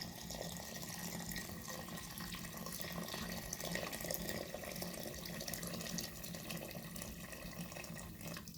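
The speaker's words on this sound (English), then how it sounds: "Let's add in some water to our rice." Water runs into a pot of rice for biryani as a faint, steady stream with a soft continuous splash that lasts the whole stretch, with no talking.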